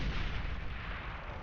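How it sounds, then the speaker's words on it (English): Deep, booming rumble of a large explosion in the strategy video game Beyond All Reason, loud at the start and fading into a sustained low roar, with no talking. "Huge explosion there."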